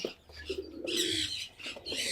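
Racing pigeon, a female bird, held in hand at a loft before a toss, giving soft coos and chirps with faint wing or feather rustles, close and fairly quiet throughout.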